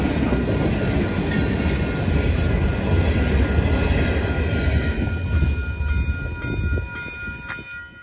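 A Pan Am Southern freight local led by GP18 3825 with a leased GP38 rolls through Ayer, Massachusetts: continuous heavy wheel rumble with high, shrill wheel squeal above it, easing off toward the end, no voices.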